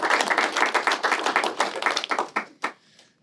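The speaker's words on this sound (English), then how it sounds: "let's give them a round of applause first." An audience at a founders roundtable event in San Francisco claps for the founders, a short burst of close, dense clapping that thins out into a few last claps and then stops.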